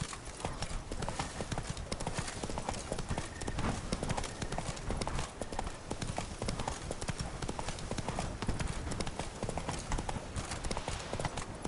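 Horse hooves clip-clop steadily in The Witcher 3: Wild Hunt, a brisk continuous gallop rhythm, close and loud throughout, with a horse whinny possible.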